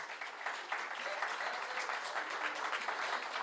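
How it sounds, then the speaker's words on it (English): A crowd claps steadily for several seconds, a dense, even patter of many hands in a large room. "Big applause, please."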